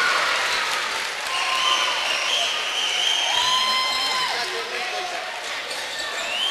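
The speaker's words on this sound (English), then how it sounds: "And you can tell from the reaction from the crowd" A college men's basketball crowd at an Elmhurst vs Olivet game applauds and cheers after an alley-oop, a steady wash of clapping and shouts with sneaker squeaks, while a commentator talks over it.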